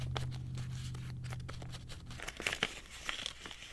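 Paper envelope flap tucked into place by hand, giving soft crinkling and rustling paper sounds, close up and fairly faint, with a few sharper crinkles toward the end.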